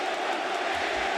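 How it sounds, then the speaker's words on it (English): A large wrestling crowd roars and cheers continuously, a dense wash of voices at steady loudness throughout. "And now listen to the cheer."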